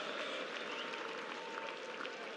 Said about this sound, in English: The crowd will give him a round of applause.